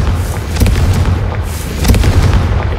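A Confringo spell explosion in the PS5 game Hogwarts Legacy, two loud booming blasts over a continuous heavy rumble, close and forceful, with no talking.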